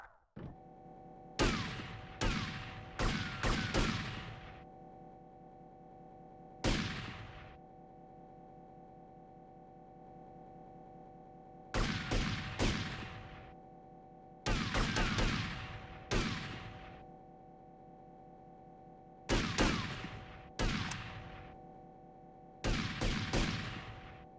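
Cannons fire volleys in a video game: booming blasts in quick clusters of two to four, each with a short decaying tail. The groups are spread over the stretch with quiet gaps between them, over a steady hum.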